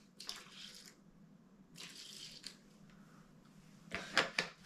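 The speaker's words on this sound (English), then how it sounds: "a bit of warm water in a bowl, and I'm going to just add a dash of this" Warm water is poured into a bowl during cleaning of a VW Caddy Maxi micro camper van interior, giving soft splashing bursts in three short spells, quiet and close, the last briefly louder.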